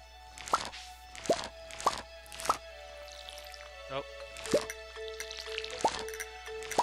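Crops get watered in Stardew Valley with a watering can, a series of separate soft splashing plops at an uneven but regular pace, with game music tones and a voice talking quietly underneath.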